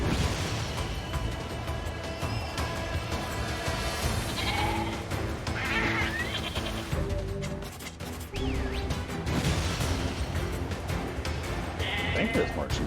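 Sheep bleat repeatedly in the video game Nier Replicant, mixed into dense game audio with music, crashes and impacts, with a voice talking over it throughout.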